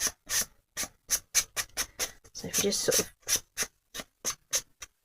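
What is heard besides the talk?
sanding block sanding paper card edges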